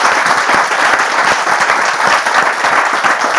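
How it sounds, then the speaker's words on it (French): A studio audience on a French talk show applauds, strong, even clapping from many hands that holds steady and loud throughout with no talking over it. "On peut vous applaudir bien fort, vous êtes formidables."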